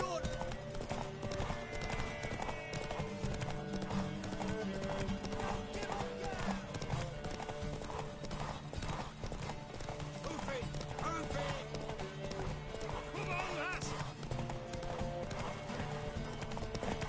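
Steady clip-clop of horse hooves running throughout in The Witcher 3: Wild Hunt, with an occasional whinny, layered under dense music and voices talking.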